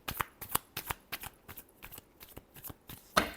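Tarot cards being shuffled by hand, a quick series of crisp riffling bursts in an uneven rhythm, close and fairly loud, with a final sharper snap at the end.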